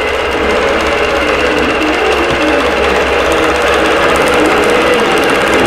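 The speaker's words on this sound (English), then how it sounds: "I hit start, and now it's sewing row number 3." An embroidery sewing machine runs steadily while stitching a row on a Winter Wonderland tree skirt, giving a loud, continuous, even mechanical buzz with no pauses or voices.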